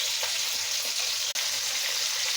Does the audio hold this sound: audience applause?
no